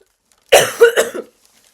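A single close cough, a short harsh burst with a few rough follow-up pulses, then silence.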